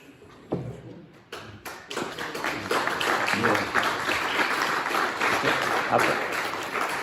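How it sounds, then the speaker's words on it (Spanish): Audience applauding after a spoken meditation, a few scattered claps that quickly build into sustained, dense clapping, fairly close and loud. "O sea que aplaudéis a Pablo, ¿no?"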